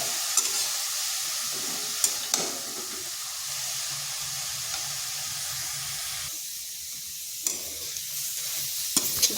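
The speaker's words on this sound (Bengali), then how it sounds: "গাজরগুলোকে হালকা ভেজে নিচ্ছি যাতে তার কাঁচা গন্ধটা চলে যায়।" Carrots lightly fry in a pan with a continuous close sizzle, while a utensil stirs and scrapes against the metal at intervals, with a few sharp clicks; no talking.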